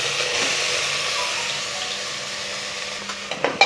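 Chopped onions hit hot oil in a pressure cooker, giving a steady, broadband frying hiss that runs for several seconds, with a few louder crackles and spits near the end.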